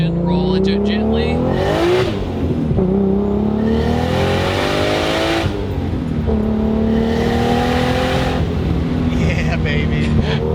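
A 2JZ-swapped Lexus IS300 accelerates hard uphill, engine pitch climbing in several rising sweeps between gear changes, loud and close inside the car, with people talking over it.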